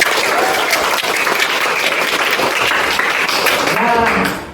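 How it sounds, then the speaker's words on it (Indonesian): An audience of sixth-grade pupils and teachers at an Indonesian school gathering claps steadily as a group, a continuous close wash of applause that holds for several seconds before cutting off. "Tepuk tangan bagi kita semua."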